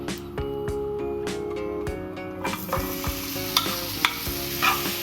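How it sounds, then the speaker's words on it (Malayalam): Paneer cubes frying in a small amount of oil: a steady, close sizzle with brisk stirring clatter and spoon knocks against the pan, no one speaking. "ഇനി നമുക്കിത് ഫ്രൈ ചെയ്യാം"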